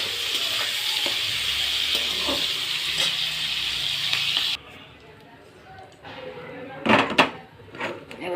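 Prawns fry in a pan with a steady hiss and crackle for several seconds, then the sizzle cuts out and a few clattering stirs and knocks follow, with speech present.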